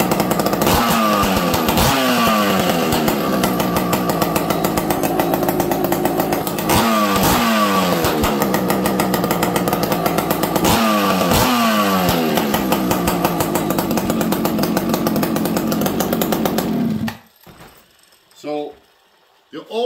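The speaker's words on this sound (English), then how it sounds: "This saw runs, starts, idles. Let's see how it restarts now." Husqvarna 480CD chainsaw fitted with an aftermarket pipe, running loud and close with a steady rasping drone and revving bursts for about seventeen seconds, then cutting off abruptly into near silence with a faint sound or two after.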